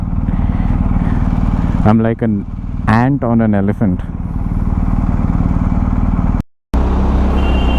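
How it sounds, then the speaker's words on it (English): A boxer twin motorcycle engine idles with a steady low rumble throughout, close and loud, while someone talks over it. "This bike actually sounds like an aircraft."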